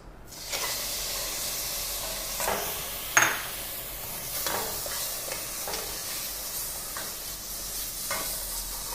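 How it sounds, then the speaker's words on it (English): Deveined prawns frying in a hot pan, a loud continuous hissing sizzle with periodic stirring strokes and one sharper scrape, close and without talk. "we'll first fry them for just a minute or two and keep them aside"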